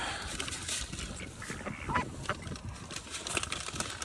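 Ducks being fed make scattered quacks and squabbling calls, close by and moderately loud over a busy outdoor background, with no talk.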